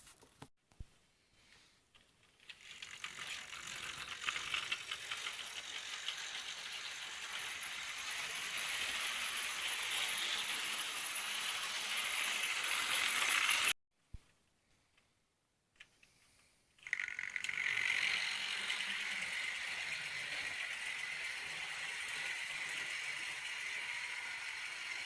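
Old Hornby OO gauge model locomotives run on track after servicing, giving a steady mechanical whirring and rattling clatter of motors and wheels that continues with a brief pause, then resumes close up.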